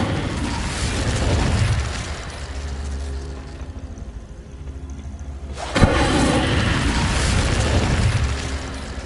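The Incendio fire spell going off in a Harry Potter video game, a loud, dense roaring burst that dips briefly, then erupts again with a sharp crack and sustained blast-like rumble.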